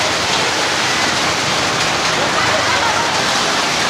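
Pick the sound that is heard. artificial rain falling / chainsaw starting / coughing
artificial rain falling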